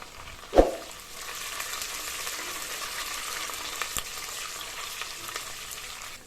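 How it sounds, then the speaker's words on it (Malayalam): Ginger and garlic fry in oil for Kerala-style spicy fish curry, giving a steady, close sizzle throughout, with a sharp clatter near the start and a faint tap later. "ഇഞ്ചിയും വെളുത്തുള്ളിയും ഈ എണ്ണയിൽ കിടന്ന് നന്നായി ഒന്ന് മൂപ്പിച്ചെടുക്കാം"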